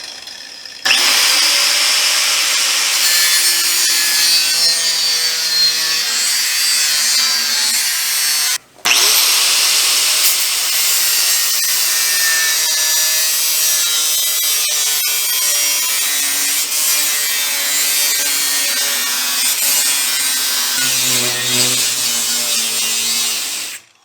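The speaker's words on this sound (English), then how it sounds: "when I come back with my cutoff wheel and my angle grinder, I'll cut just inside this line" An angle grinder with a cutoff wheel slices through steel while building a custom welding table, a loud, continuous harsh whine that runs close-up for over twenty seconds with one brief pause and no speech.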